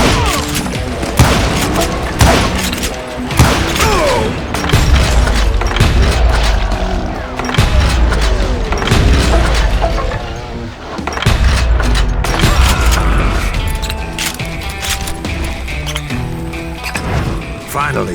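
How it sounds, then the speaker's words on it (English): A loud shootout in the Western video game Call of Juarez Gunslinger, with repeated gunshots and booming impacts throughout, rapid bursts interspersed with heavy thuds and crashes, under spoken narration. "Shoot that running son of a bitch!"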